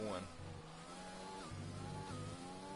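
A racing car in a CRL Tier 2 event in Spain takes a series of corners, its engine note rising and dropping with gear changes as it sweeps through, loud and steady, with a commentator talking over it.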